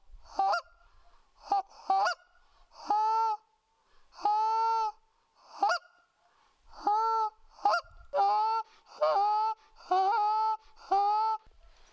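A goose call blown by a person gives a series of loud, nasal honks in short bursts and quick doubles, closely imitating a flock of geese.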